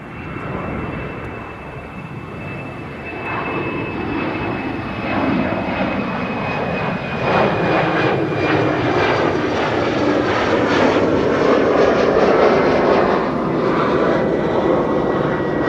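An airliner takes off from the Kaagbaan runway 24 at Amsterdam Schiphol, a steady broadband jet roar that builds gradually and holds loud throughout, with a faint high whine riding on top.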